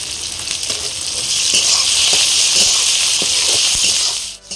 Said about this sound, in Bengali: রসুন আর পেঁয়াজটা ভাজা ভাজা হয়ে গেছে